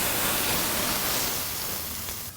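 Water poured onto a hot flat-top grill under a dome beside smashburger patties topped with provolone and mozzarella, a loud broadband steam hiss that holds steady then tapers off at the end.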